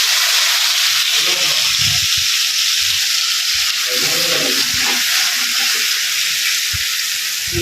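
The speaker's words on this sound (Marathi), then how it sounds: "आलं लसूण मिरची पुदिना आणि कोथिंबीर हे असं मस्त तेलामध्ये परतून घ्यायचं" Ginger, garlic, chilli, mint and coriander sautéing in oil in a pan, giving a loud, steady hiss with occasional stirring, while voices murmur faintly underneath.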